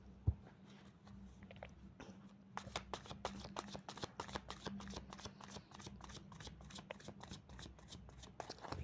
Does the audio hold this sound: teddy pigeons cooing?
no